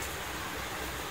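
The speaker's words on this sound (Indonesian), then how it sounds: "Karena situasi di stasiun Cikampek ini sedang hujan deras dan juga petir ya." Heavy rain with thunder at Cikampek train station: a dense, even hiss of downpour, steady and fairly faint, with no talking over it.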